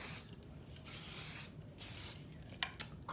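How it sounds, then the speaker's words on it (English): Hairspray misted onto fully curled hair in several short hissing bursts, close and quiet, followed by a couple of faint clicks. "I mist it with hairspray before I finger through it"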